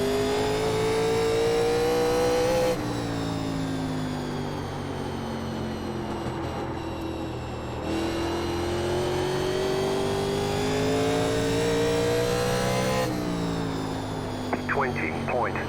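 1987 NASCAR Legends race cars at North Wilkesboro Speedway in iRacing drone steadily with rising and falling engine pitch. Gear shifts break the sound into sections, and a voice talks over it throughout.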